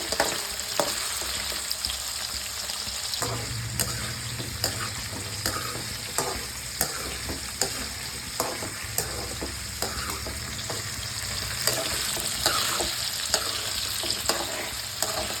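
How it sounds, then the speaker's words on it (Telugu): Small amla (Indian gooseberries) frying in hot oil for a pickle give a steady, dense sizzle with crackling pops and occasional stirring clinks, close and continuous throughout. "చిన్న ఉసిరికాయలు తొందరగా వేగిపోతాయి"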